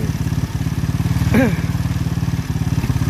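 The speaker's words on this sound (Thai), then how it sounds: "ประกอบเสร็จติดเครื่อง" Freshly assembled FD300 buggy engine running at idle, a close, steady rapid chugging pulse with mechanical clatter, while a person briefly speaks over it.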